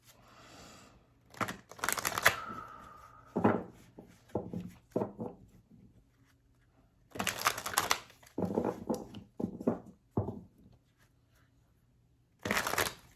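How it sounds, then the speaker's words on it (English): Repeated bursts of tarot cards being shuffled, crisp riffling and slapping in several separate rounds with short quiet gaps between, close and fairly loud. "Let's do 3 more shuffles for Libra."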